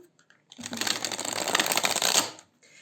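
A quick riffle shuffle of playing cards, a dense fluttering clatter lasting about two seconds, close and clear, with silence around it.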